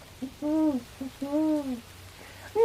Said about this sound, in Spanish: A veces puede oírse también el grito quejumbroso de un búho.